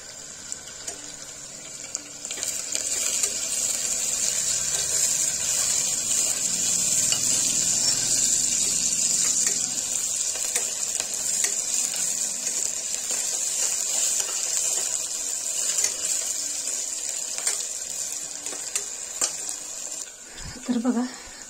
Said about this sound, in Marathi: आणखी कांदा फ्राय करायला घेतलाय